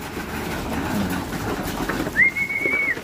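Racing pigeons at their loft during a training toss, with bird calls over a steady outdoor background and a brief clear whistle near the end.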